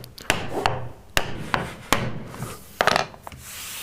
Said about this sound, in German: Um sicherzugehen, dass das Profil komplett in die Nut einrastet, kann man nochmal weiterhin nachschlagen.